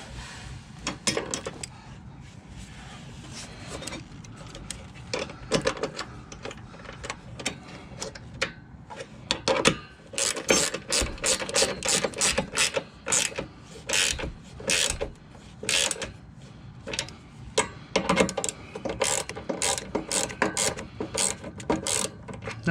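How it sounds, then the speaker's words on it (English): A wrench tightens bolts on a Ram truck in a run of quick metallic ratcheting clicks and clanks, moderately close and fairly faint, with brief pauses between bursts. "Now, we don't want to tighten these down so tight that we break the bolts."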